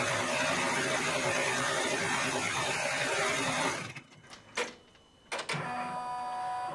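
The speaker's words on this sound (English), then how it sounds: "I'm just going to let it finish stitching." A multi-needle embroidery machine stitching quilt blocks gives a loud, steady mechanical whir that drops off partway through, followed by a few sharp clacks before the hum resumes.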